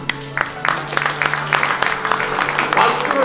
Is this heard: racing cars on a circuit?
no